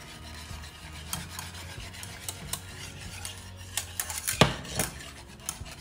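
Apple cider vinegar gummy mixture stirred in a pot, a utensil scraping and clinking against the metal in a soft, steady rasp with one sharper knock near the end; quiet and close, no speech.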